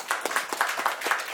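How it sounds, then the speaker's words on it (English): A small audience at a panel event claps in a loose, uneven rhythm, individual claps standing out close and fairly loud over a short burst with no talking. "Well-deserved applause."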